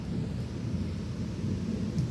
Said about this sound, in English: Thunder is one of the biggest wonders of the world.